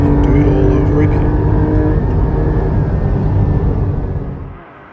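A GT4 sports car engine revs hard toward its 8,000 RPM limit, a loud, continuous roar heard close up that holds steady and then fades away near the end, with no talking.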